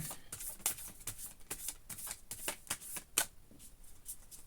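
Tarot cards riffle and slap in a quick, uneven run of crisp shuffling bursts, up close and fairly quiet, with no talking.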